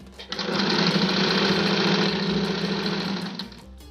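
Sewing machine stitching clothes at home, a close, fast, steady mechanical whirr lasting about three seconds before stopping.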